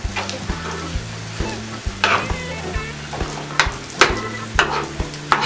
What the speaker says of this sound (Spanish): como esto ya se está cociendo, pues lo movemos para que se cosa de todas partes